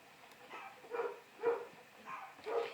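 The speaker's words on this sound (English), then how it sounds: "I'm sorry about my dogs. They have a lot to say." Several dogs bark and yip in a room, five muffled, moderately distant bursts in an uneven rhythm, with no talk over them.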